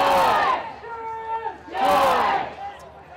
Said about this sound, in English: You can hear the home crowd here in Vancouver trying to get behind their home team